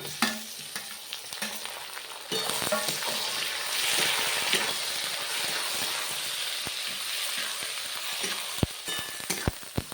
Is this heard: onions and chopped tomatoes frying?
yes